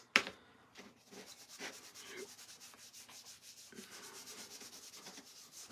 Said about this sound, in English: I am gonna put a little more wax over the paint now